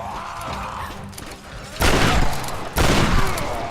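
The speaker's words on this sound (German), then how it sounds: "2 Schüsse brauchen die, okay. 3 Schüsse." Two loud, heavy gunshots boom a second apart over a murky background of game ambience in Tomb Raider, each with a trailing crash and reverberation.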